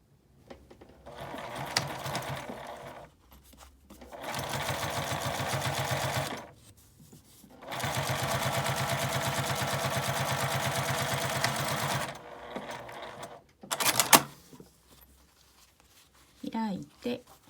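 A sewing machine stitches a clear-window key case with a one-centimetre seam allowance, running in two long, steady whirring bursts separated by pauses, then shorter clicks and stops near the end.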